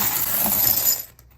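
China inside a crash box is struck with a rubber mallet, giving one bright, loud shattering crash that rings for about a second and then cuts off abruptly.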